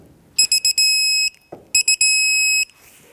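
Digital torque wrench sounding its electronic alert while tightening the pinch bolt on a 2012-2020 Ford Focus front wheel bearing job, two loud bursts of rapid beeps, each ending in a longer tone.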